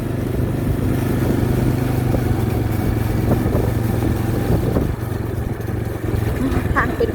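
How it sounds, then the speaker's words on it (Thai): A motorcycle rides around a house on a red dirt road in rural Thailand, its engine droning steadily and close throughout with small rattles, under a voice talking. "ขี่รถอ้อมบ้านให้เบิ่ง"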